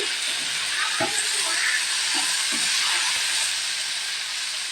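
Chopped tomatoes hit softened onions in a hot pan for a spicy kaara chutney, giving a loud, steady sizzle and hiss with a few soft clunks.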